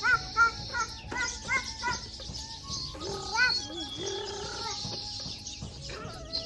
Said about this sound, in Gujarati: કૂતરું ક્યાંથી આવી છે